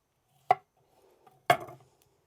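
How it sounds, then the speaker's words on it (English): Two sharp, close snaps of cauliflower florets being broken apart by hand, about a second apart, in a quiet kitchen. "I just want to break up the florets so that they're a little bit smaller"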